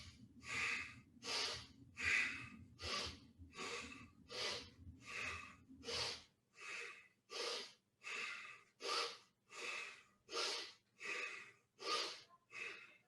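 Steady deep breathing in a qigong exercise, about fifteen slow breaths in an even rhythm, each a broad airy whoosh rising and falling, close and clear with no talk.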